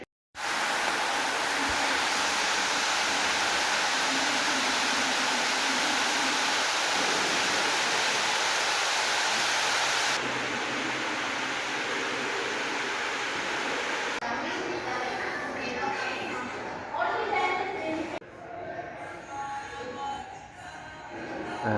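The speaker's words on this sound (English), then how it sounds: "That's the water pipe pumping the water up here," Water from an artificial waterfall in Malaysia, fed by a pump pipe, pours in a loud, steady close-up rush that stays dense throughout, growing slightly rougher and more uneven near the end.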